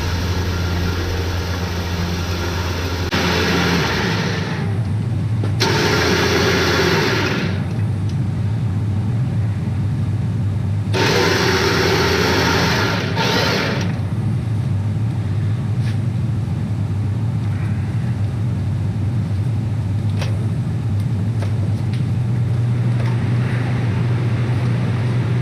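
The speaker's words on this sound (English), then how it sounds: "I have a nice skinning machine here, so it'd be rude not to use it" A skinning machine runs while an otter is skinned, a steady low motor hum throughout, broken by bursts of loud, harsh whirring as the pelt is worked, close by with no talking.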